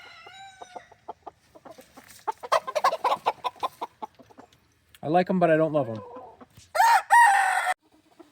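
Bantam Malay roosters cluck in a quick run of short pulses, then give two loud, close crows near the end; someone speaks briefly at the start.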